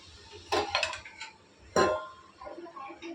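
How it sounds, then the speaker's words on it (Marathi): A metal lid is set onto a pan of cooking okra bhaji with two distinct clanks about a second apart, followed by lighter rattles, all close by in a quiet kitchen. "तर पुन्हा आपण थोडंसं झाकण ठेवणार आहोत"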